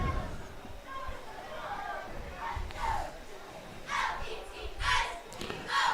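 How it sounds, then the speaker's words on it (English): Crowd noise at a high school varsity football game, a steady murmur of spectators with a few swelling bursts of cheering, heard at a distance under ongoing talk. "Another good crowd tonight,"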